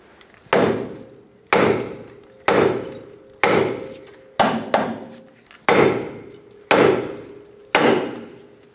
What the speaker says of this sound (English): Take a hammer, tap the control arm right here.